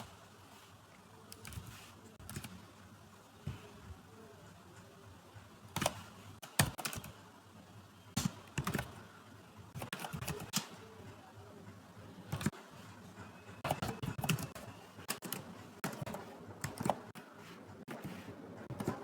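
Steady typing on a computer keyboard while writing inline template code for an Angular 16 component, with quick irregular bursts of key clicks and short pauses, fairly quiet and close, no talking.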